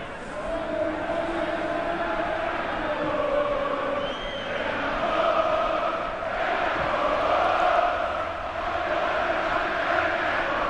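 Olympiakos Volou supporters fill a football stadium at a Greek Cup semi-final, a dense, continuous crowd roar that swells and ebbs for about ten seconds, with chants and cheering mixed in under a commentator's voice.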